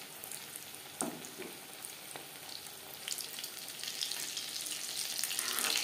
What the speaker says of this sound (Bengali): চপ গোল্ডেন ব্রাউন করে ভাজা হয়ে গেছে।